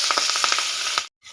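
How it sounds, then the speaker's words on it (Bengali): Silver carp pieces frying in hot white oil in a kadai make a bright, steady sizzle with rhythmic crackling pops. The sizzle cuts off abruptly, goes silent briefly, then returns softer. "তেল গরম হয়ে গেছে, মাছগুলো দিয়ে দেব।"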